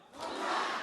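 A lecture-hall audience at a civic education class shouts a single word together on cue, one short, loud, swelling crowd shout that rises and holds briefly.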